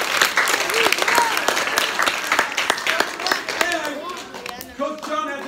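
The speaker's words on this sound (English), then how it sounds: "So let's give it a round of applause for both of them" A school assembly crowd applauds two student debaters, a lively burst of many hands clapping with scattered cheers and voices mixed in, thinning toward the end as people talk over it.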